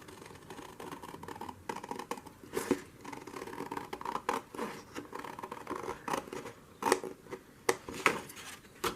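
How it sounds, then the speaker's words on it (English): Scissors snip out a small paper journaling tag, giving soft, irregular cutting clicks and rustles at close range, with no talk. "So I'm going to cut this out and do my journaling on that little tag."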